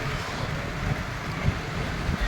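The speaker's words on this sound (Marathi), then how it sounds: "भयंकर वारा सुटलाय" Steady, blustery roar of strong wind during an unseasonal rainstorm buffeting the microphone, low rumbling gusts throughout with no voices.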